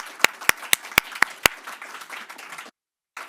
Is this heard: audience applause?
yes